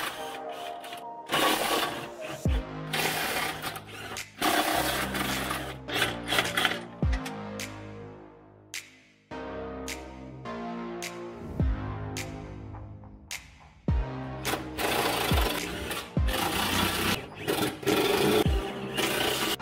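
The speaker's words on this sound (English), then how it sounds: "First, we'll remove the four bolts with an impact wrench and a 21 millimeter socket." An impact wrench with a 21 mm socket removes bolts from a 2012 Jeep Grand Cherokee during a Class III hitch installation, sounding as several loud, close bursts of hammering rattle separated by short pauses.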